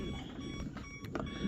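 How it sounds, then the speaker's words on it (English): A modified hoverboard fitted with a DIY replacement battery gives off a faint, brief electronic beep in a quiet room. "I'm not sure why it beeps."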